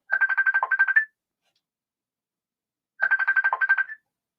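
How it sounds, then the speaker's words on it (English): A phone ringtone plays in two loud, identical bursts of about a second each, rapid pulsing electronic tones that end on a rising note, separated by two seconds of silence. "I'm not answering the phone."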